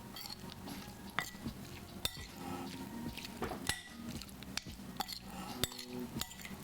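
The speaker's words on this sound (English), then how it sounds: "Let's give this a stir." A spoon stirs a sauce of sesame oil, lime zest, minced ginger and garlic in a bowl, giving soft scraping swirls broken by several sharp clinks against the dish, close and fairly quiet with no talk.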